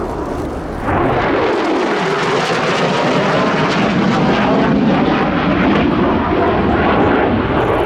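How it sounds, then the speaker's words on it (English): A Qatar Emiri Air Force F-15QA fighter jet flies at the RIAT 2024 airshow, a loud, continuous broadband roar that swells in after the first second and stays steady throughout, with no speech. "But then came this, the F-15QA for Qatar."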